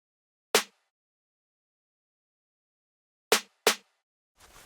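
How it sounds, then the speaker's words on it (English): Three sharp, isolated snare hits in an FL Studio trap beat, one alone followed after a pause by a quick pair, each a crisp broadband crack with a short decay against silence. "Then for the next thing, I have this simple hit snare,"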